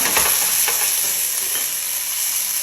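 Onion, ginger and garlic frying in a pan while being stirred, a steady close hiss of sizzling oil with faint scrapes of the spoon, no talk.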